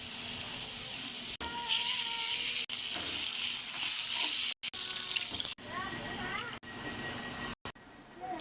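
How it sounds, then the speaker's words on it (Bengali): Tap water runs steadily into a sink while fish is washed for cutting, a loud continuous splashing stream that stops and restarts several times, with voices at moments in the background. "এগুলো কি মাছ আম্মু ধুয়ে কাটতেছো?"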